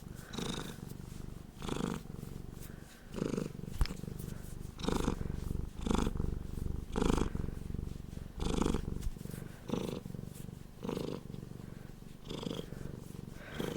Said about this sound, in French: C'est la première fois que je crois qu'on a une session de ronron aussi longue.